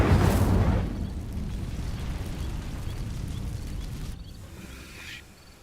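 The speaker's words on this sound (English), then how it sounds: "These dry vines are one spark away from becoming kindling. Incendio!" A fire spell ignites dry vines in a Hogwarts Legacy fantasy game, opening with a loud whooshing burst of flame that settles into a steady low crackling roar before fading.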